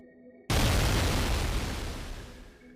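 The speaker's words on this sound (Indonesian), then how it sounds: "dibarengi dengan suara ledakan yang memekakan telinga" A sudden, loud explosion bursts in after a brief quiet moment, its broad roar lingering and slowly fading over the next two seconds.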